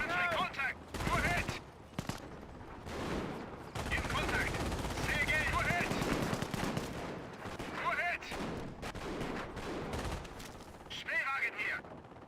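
Bursts of rifle and machine gun fire crackle in a Company of Heroes battle, repeated volleys with short gaps between them, sounding under an announcer's voice commentary.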